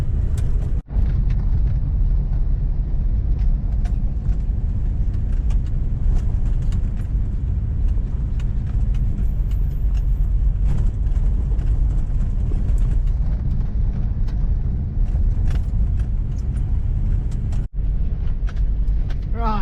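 A two-wheel-drive vehicle rolls down a rough, steep dirt track with a constant low rumble. Wind buffets throughout, a couple of sharp knocks break it up, and it plays with no talking.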